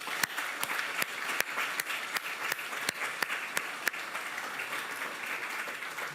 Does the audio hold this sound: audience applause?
yes